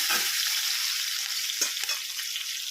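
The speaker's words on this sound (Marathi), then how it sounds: "त्यानंतर आपण आता त्यामध्ये थोडीशी हळद टाकणार आहोत. ते मिक्स करून घेणार आहोत." Turmeric being stirred into food frying in a pan: a steady close sizzle with a few scraping stir strokes.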